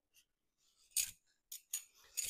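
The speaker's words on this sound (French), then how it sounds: "Je vais éplucher ma papaye" A papaya being peeled with a vegetable peeler, several short, close scraping strokes separated by brief silences, crisp and quiet.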